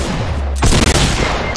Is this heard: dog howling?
no